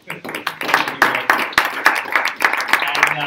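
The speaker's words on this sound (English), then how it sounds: "clap for yourself" Scattered audience clapping at a JavaScript meetup talk, a sparse, uneven run of hand claps filling a few seconds, with a voice briefly audible underneath.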